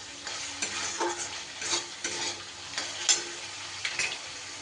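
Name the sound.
spice paste frying in oil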